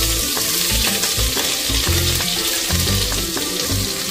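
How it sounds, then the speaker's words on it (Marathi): Ground masala paste for a mutton curry hits hot oil and fries with a steady, loud crackling sizzle that fills the whole stretch, with faint rhythmic tones underneath and no talking. "तापलंय तेल, आई टाक. तेलामध्ये तोच वाटलेला मसाला टाकतोय आम्ही."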